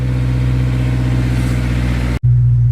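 A Honda S2000 engine runs loud and close with a steady, throaty drone, briefly cutting out near the end before resuming.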